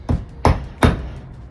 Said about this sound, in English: how to nail heels on with the world famous Hammer and Sole